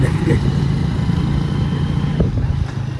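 A motorcycle engine runs with a steady, mid-pitched drone during a road ride, loud and continuous for the whole stretch against a rough background of wind and traffic noise.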